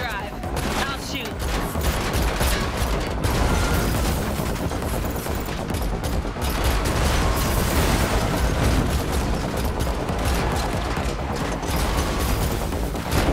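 Gunfire and explosions during a car chase in The Matrix Awakens on PlayStation 5: a relentless, loud fusillade of rapid shots mixed with heavy booms, nonstop and close, with voices faintly underneath.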